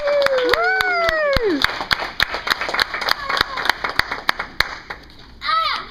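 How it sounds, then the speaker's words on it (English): A few people clap for a child in a taekwondo setting. Sparse, irregular handclaps sound close by, with a voice at the start and a brief burst of speech at the end. "the crowd goes wild with excitement"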